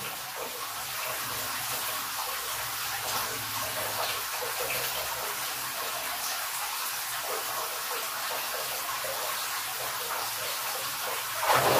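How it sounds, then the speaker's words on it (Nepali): Hot water runs steadily into a hotel bath, a continuous hissing gush with light splashing, close and even in level, ending with a brief louder splash. "बर्खामा बलिनीबाट बलिएको पानीको जस्तै आवाज आइरहेछ"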